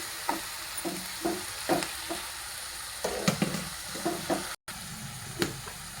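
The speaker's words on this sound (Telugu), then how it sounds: "ఇది ఫ్రై అవ్వడానికి 5 మినిట్స్ పడుతుంది. సో మంచిగా ఫ్రై చేసుకోవాలి." Menthe kadubu, an authentic Karnataka breakfast dumpling, frying in oil: a continuous close sizzle broken by repeated soft pops and crackles at an uneven rhythm, with no voices.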